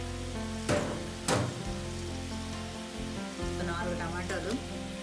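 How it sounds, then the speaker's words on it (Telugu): Small potatoes frying in hot oil for aloo dum curry give a close, continuous sizzle with a few louder bursts of crackling, and a voice talks briefly over it. "ఇంకొంచెం రెడ్డిష్ కలర్ వచ్చే వరకు వేపుకుందామండి."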